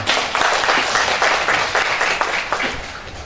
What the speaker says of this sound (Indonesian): kasih tepuk tangan dulu untuk Tuhan kita.